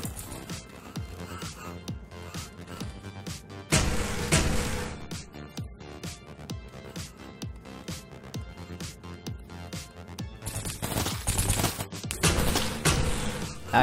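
Rapid bursts of gunfire in the video game Project A.P.E, with repeated sharp shots and louder volleys around the fourth second and again near the end, set against a steady game background.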